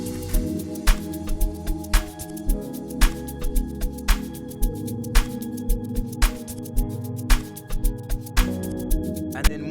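Amapiano beat layered with grand piano chords and higher-octave piano, sharp percussive hits landing in a steady rhythm over warm low bass, loud and continuous with no voice.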